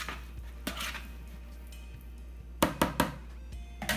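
Potato salad tossed in a bowl for a Southern-style recipe, a few sharp clinks and scrapes of a utensil against the bowl in a quick cluster near the end, close and fairly quiet.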